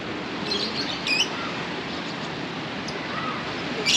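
Birds chirp in a colorful hillside village in Malang, East Java, with a few short faint tweets over steady wind-like outdoor hiss.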